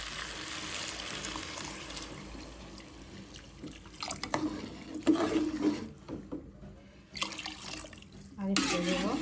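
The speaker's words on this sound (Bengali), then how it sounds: "দিয়ে দিলাম পানি।" Water is poured into a cooking pot of fried rice-and-lentil mixture, a soft splashing trickle against kitchen background noise, with bursts of clattering and sizzling later on.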